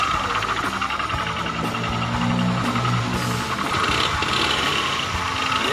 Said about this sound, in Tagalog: testing natin kung gaano kaingay yung kanyang makina mga papa